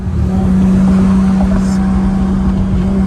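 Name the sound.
Toyota Supra sports car engine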